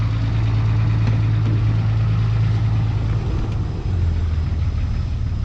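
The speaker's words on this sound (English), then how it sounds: "I got the high idle going." Cummins diesel pickup with a 68RFE transmission idling at raised high idle, a steady loud low rumble and drone that holds evenly, with no voices.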